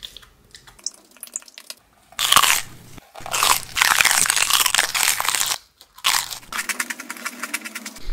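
Green Takis chips crunch hard in bursts of loud close-up biting and chewing, with quiet gaps between the bites and no voices.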